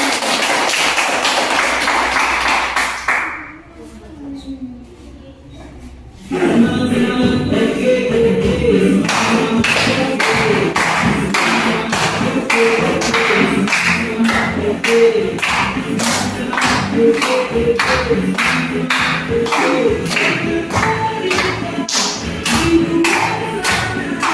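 A classroom audience claps in a steady, rhythmic run of sharp, even hand claps after a brief quiet gap, continuing loud and close to the end.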